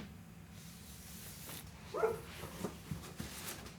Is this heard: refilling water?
no